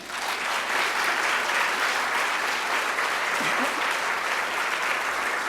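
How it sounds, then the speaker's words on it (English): Sustained applause from a large conference audience fills the room, steady and loud for several seconds with no talk over it. "can I please have a huge round of applause"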